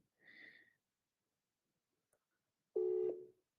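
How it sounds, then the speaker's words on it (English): A short electronic tone near the start, then a steady harsh buzzing tone lasting under a second, a telephone busy signal, with silence between. "Let me try and call Tamaran."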